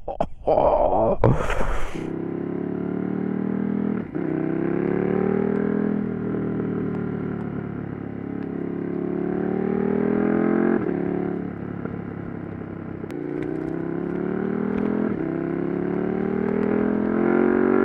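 A 2020 KTM 1290 Super Duke R with an Austin Racing V3 Mini 200mm exhaust ticks over with a deep, throaty rumble, steady and close, after a brief burst of noise at the start.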